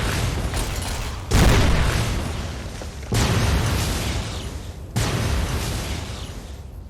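Three heavy grenade blasts in Fallout: New Vegas, each a loud, sudden boom that rolls off slowly before the next, with continuous rumble underneath.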